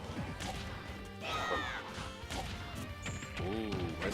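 Forward smash attacks landing in a Super Smash Bros match, with sharp whacking crashes and swishing hits over busy game sound effects and music throughout.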